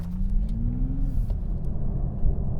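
A 2020 Toyota Supra engine rumbles loud and close from inside the car on the road, pitch rising briefly as it accelerates before settling into a steady drone.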